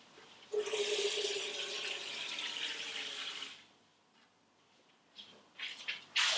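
Water is poured into the reservoir of a Tupperware Micro Vap steamer in a steady, bright stream for about three seconds. Small clinks and handling noises follow.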